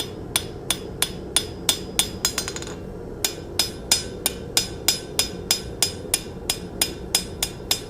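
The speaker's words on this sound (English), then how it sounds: "And then I'm going to planish it up." A hammer planishes hot forged metal on an anvil in a steady, ringing series of close, sharp blows, with a brief flurry of quick light taps partway through and no speech.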